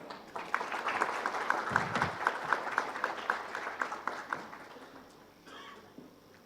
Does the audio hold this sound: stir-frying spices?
no